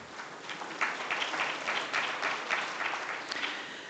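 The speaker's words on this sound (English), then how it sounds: "Let's give them again a warm round of applause." Warm applause from a seated audience at a business forum, a steady patter of many hands clapping at moderate volume for a few seconds, with no voices over it.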